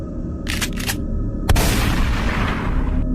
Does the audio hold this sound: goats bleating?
no